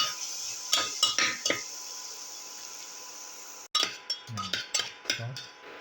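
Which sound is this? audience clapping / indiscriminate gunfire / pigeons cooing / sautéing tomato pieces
sautéing tomato pieces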